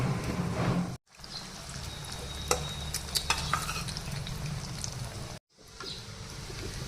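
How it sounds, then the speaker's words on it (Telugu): Coconut dumpling mixture (kobbari muttilu) being stirred in a pan on the stove, a steady close scraping and stirring with faint sizzling, broken by two short silent gaps. "ఎక్కువ కలపకుండా సమానత కలుపుతాను"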